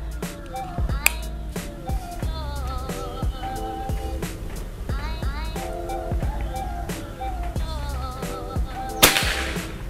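A Predator OD 38 PCP air rifle fires its fifth shot, a sharp crack standing out near the end over a busy background of clicks and tonal noise.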